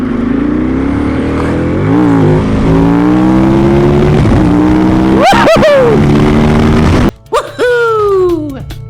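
A Gen 1 Aprilia Tuono motorcycle on a test ride, its engine droning loud and close, climbing through the gears, then blipping sharply in a few quick revs before easing off.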